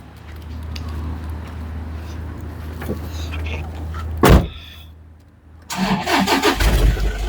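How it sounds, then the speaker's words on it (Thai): The 2.5 engine of a 2010 Toyota Hilux Vigo Prerunner Smart Cab cranks with a sharp burst and fires up, then settles into a close, loud, rough diesel idle with some throttle blips. A low engine hum is audible before the start. "เรามาดูสตาร์ทเครื่องดูฟังเสียงนะครับผม"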